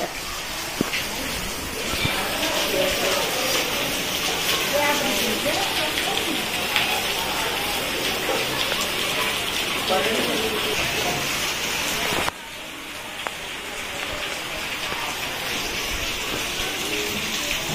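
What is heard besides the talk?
heavy sudden rain at night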